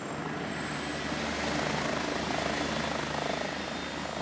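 Rescue helicopter in Corsica running its engines at full power, a steady loud rotor and turbine roar that holds constant throughout with no talk.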